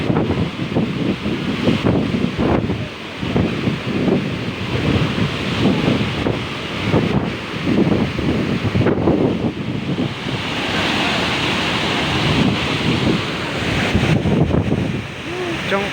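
Mountain stream with no culvert or bridge near a Hmong village, its water rushing loudly and continuously, with wind buffeting the microphone throughout.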